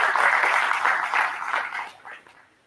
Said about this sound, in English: Please join me again with a huge round of applause